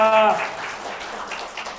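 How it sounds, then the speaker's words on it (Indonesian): Congregation at an online church service clapping in praise of God: a brief voice gives way to a soft, diffuse patter of many hands, fairly faint and distant, continuing to the end. "Boleh tepuk tangan dulu buat Tuhan kita."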